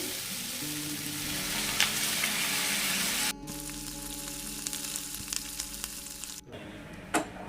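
Potato and pointed gourd curry sautéing in a pan, a loud, steady sizzle and crackle running throughout, with abrupt shifts in level partway through and no talk.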